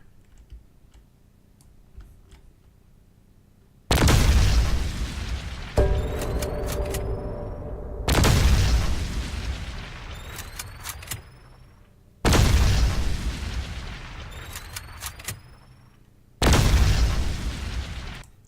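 A railgun in a game, styled after the Quake 3 railgun, fires four times at evenly spaced intervals. Each shot is a loud sharp blast with a long rushing decay, and thin ringing whines trail the shots.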